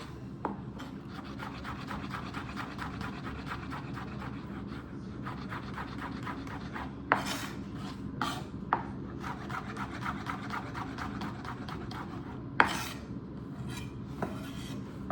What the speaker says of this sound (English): I'm just gonna try and finely mince this garlic